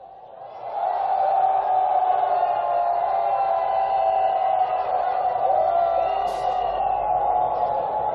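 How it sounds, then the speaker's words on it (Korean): Protest crowd at a candlelight citizens' march against the president, a large mass of voices raising a sustained angry roar that swells quickly and holds loud and steady, with scattered higher shouts on top. "윤석열 정권을 향해 분노의 함성"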